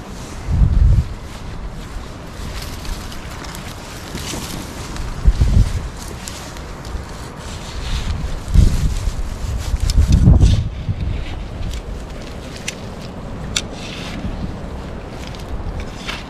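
Strong, gusty wind buffets the microphone outdoors on a sunny day in a garden where flower bulbs and Jerusalem artichoke tubers are being dug, with heavy low rumbling bursts rising and falling throughout.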